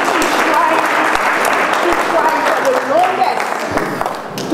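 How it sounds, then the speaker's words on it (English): Loud, sustained audience applause fills a community preparedness meeting, with cheers and voices mixed into the clapping throughout. "We want to give a bigger hands of applause for this man right here."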